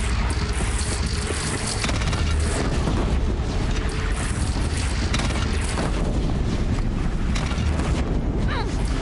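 A cannon fires in the video game Horizon Zero Dawn, heavy booming blasts buried in a dense, loud, continuous roar of battle noise.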